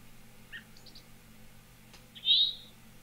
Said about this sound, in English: hear the bird in the background, the robin in the background